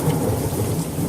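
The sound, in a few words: rain and thunder in Sherlock Holmes video game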